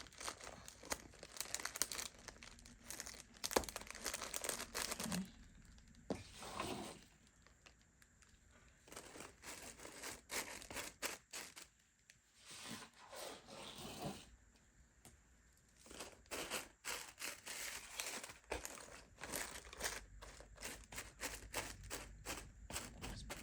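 Shredded paper filler being crinkled by hand into a gift basket: close, papery rustling and crunching in bursts, with short quiet pauses between handfuls.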